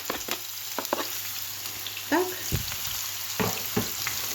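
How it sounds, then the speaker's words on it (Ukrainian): Chopped onion fries in a pan, a steady close sizzle broken by several clinks and scrapes of a spatula stirring, with a voice briefly audible in the background. "Цибулю обсмажую до золотистого"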